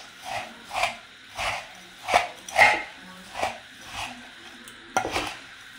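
Spiced puffed rice (muri) being mixed by hand in a bowl, with about eight rhythmic scraping, rustling strokes that rise and fall at close range.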